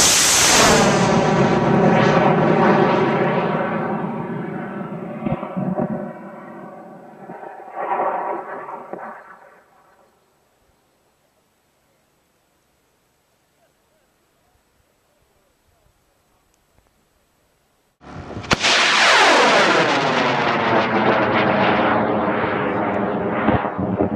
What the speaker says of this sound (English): And this rocket is flying. And 5, 4, 3, 2, 1, and launch.